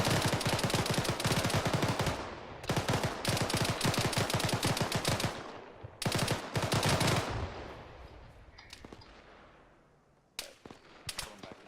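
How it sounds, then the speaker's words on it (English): Repeated rifle fire, DMR shots among automatic bursts, in the military video game Squad, loud rapid volleys in several bursts with pauses, then scattered distant shots and echoing tails as the firing thins out. "We got some DMR coming in over to the west."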